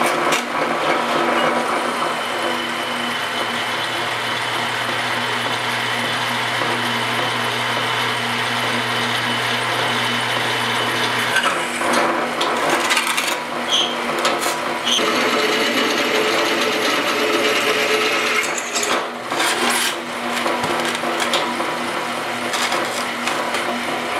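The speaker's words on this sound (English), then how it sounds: "We're gonna drill it one size bigger." A power drill bores holes one size larger than 3/8-inch U-bolts through the steel of a receiver hitch for a holiday trailer, a loud, continuous whirring grind that shifts in pitch partway through with brief rattles.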